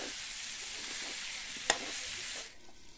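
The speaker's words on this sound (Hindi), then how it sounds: "दो मिनट तक इसको अच्छे से पकाएंगे ताकि सारे मसाले हमारे जंगली आलू में अच्छे से मिल जाए" Wild potatoes cooking with spices in a pan for sabzi, a steady close hiss of sizzling oil with a brief clink of a spoon near the end before the sizzle drops away.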